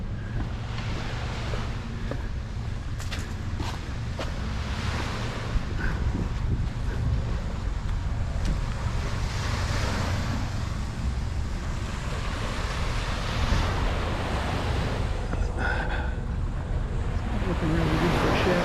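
Waves wash ashore at Seven Shillings Beach in Sydney, a steady low rush of surf mixed with wind buffeting the microphone, continuous and fairly soft throughout.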